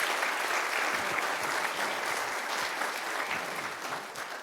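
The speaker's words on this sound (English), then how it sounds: "So can we please give another round of applause to just all of us?" At a city commission meeting, an audience applauds scholarship recipients, a steady wash of clapping from a modest crowd that holds evenly and begins tapering off near the end.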